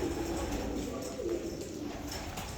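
Soft, low pigeon cooing repeats a few times against a faint, noisy background, fairly quiet and close by.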